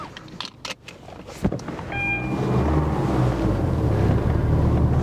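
A Porsche 992 GT3 sports car starts up: a few clicks and a brief chime, then the engine catches and settles into a loud, steady, deep rumble close by.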